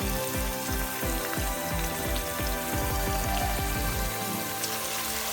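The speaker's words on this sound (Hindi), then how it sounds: "साथ साथ हम इसमें चम्मच चलाते रहेंगे ताकि एक जैसा कलर आए प्याज को।" Sliced onions fry in hot oil with a dense, continuous sizzle, broken by a series of rhythmic scraping strokes as a spoon stirs them in the pan, close up and without talking.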